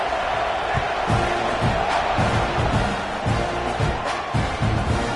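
Football stadium crowd roaring at kickoff of an LSU Bayou Bengals game, a loud, dense wall of cheering and shouts with rhythmic swells and thumps, sustained throughout with no clear speech.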